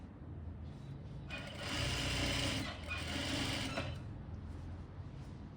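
A sewing machine stitches two layers of fabric for a Japanese cloth bag along a quarter-inch seam. Its fast, buzzing needle run lasts a couple of seconds, with a slight dip midway, over a low room hum.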